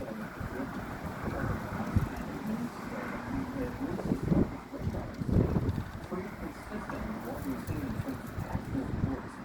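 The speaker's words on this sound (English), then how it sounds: "I've been noticing a lot of wind and the dust." Strong wind gusts buffeting a microphone outdoors on an evening before a storm, with dust kicking up; a steady, loud rumbling roar with brief surges, heard alone without talk.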